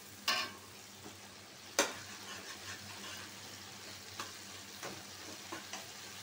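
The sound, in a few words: taro added and frying in pan with prawns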